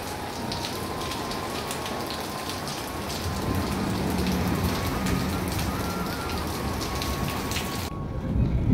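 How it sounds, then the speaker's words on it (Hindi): Heavy early-morning rain in a Pakistani village, a dense, continuous roar of drops striking surfaces, loud and steady throughout with a faint tone running underneath. "इतनी तेज़ बारिश आई."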